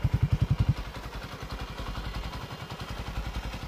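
A Suzuki Raider 150 underbone motorcycle, all stock with a Mugs exhaust, gives a few sharp throttle blips and then settles into a steady, rapid putter at idle, close by.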